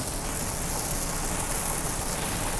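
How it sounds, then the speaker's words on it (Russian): Heavy downpour drumming on a car while driving along a road in the Baltic region, a dense, steady wash of rain noise with no breaks, loud and close throughout. "Ливень стеной вообще."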